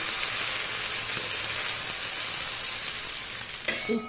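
Dosa batter made from paddy puffed rice sizzles steadily on a hot pan, a continuous close, even frying hiss that holds for several seconds before a brief clatter near the end.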